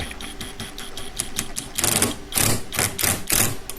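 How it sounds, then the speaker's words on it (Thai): An OSUKA OCID821U-D1 impact driver working in tap mode gives quick repeated mechanical hammering pulses, lighter at first, then louder, denser bursts of impacts, close by with no talking. "มันจะค่อยๆขันเป็นระยะระยะเข้าไปแบบนี้นะมันจะกระแทกเข้าไป"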